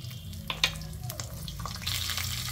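Peppercorns fry in a little hot oil in a pan, a close, steady crackle with a few sharp pops over a couple of seconds.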